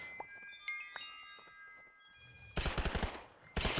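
Pirates firing blunderbuss-style guns in Minecraft Nightmare Craft, with sparse game tones and clicks at first, then a loud rapid burst of shots followed by another burst at the end.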